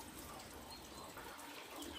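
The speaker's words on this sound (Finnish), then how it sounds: "Vettä sattaa." Steady rain falls outdoors on a spring morning, a constant soft hiss and patter with no pauses, fairly quiet and heard alone.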